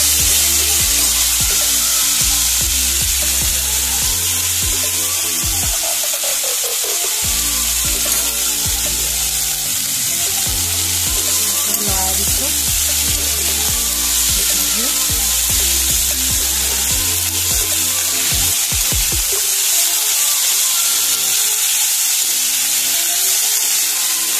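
Fiddlehead fern greens sizzle loudly with browned onions in a hot pan, a steady close frying hiss with occasional stirring clatter running throughout.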